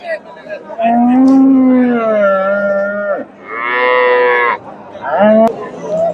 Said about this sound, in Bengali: মোটামুটি সুন্দর একটা গাভী বাচ্চা ক্রোসের